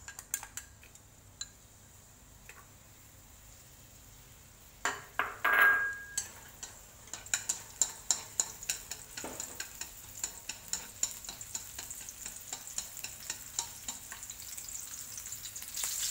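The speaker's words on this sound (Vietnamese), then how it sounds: "Và bây giờ mình cho đầu hành vô mình xào này." Shallots are stir-fried in oil in a pan: a quiet start gives way to a burst of sizzling, then steady frying with repeated clinks and scrapes of a utensil against the pan.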